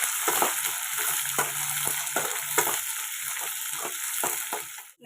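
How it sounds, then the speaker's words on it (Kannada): Onion and green chillies fry in oil for capsicum chitranna, a steady close sizzle cut by repeated scraping taps of a spatula stirring the pan, with no one talking. "ಈರುಳ್ಳಿನೂ ಅಷ್ಟೇ ಎಣ್ಣೆಯಲ್ಲಿ ಚೆನ್ನಾಗಿ ಫ್ರೈ ಆಗಬೇಕು"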